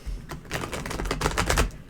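Tarot cards are shuffled by hand in a quick riffling burst of close, crisp papery flutters lasting under two seconds, with no talk over it.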